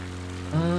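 Steady propeller-engine drone of a small plane flying a bush route across Alaska in MS Flight Simulator, pitch swelling slightly near the end as the aircraft is buffeted by a crosswind; continuous and close, with no talk.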